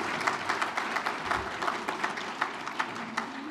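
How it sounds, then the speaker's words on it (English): A crowd at the grand opening of the Grant Presidential Library at Mississippi State University applauds a Lincoln portrayer and guest, steady, moderately distant clapping throughout. "Please give them both a round of applause."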